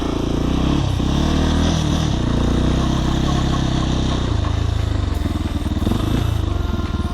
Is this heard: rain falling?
no